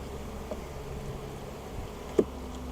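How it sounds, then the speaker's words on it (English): Honey bees buzz steadily across an open hive frame holding some uncapped nectar, a low continuous hum with one brief sharp knock partway through. "This one's got a little bit of open nectar, plenty of bees on it."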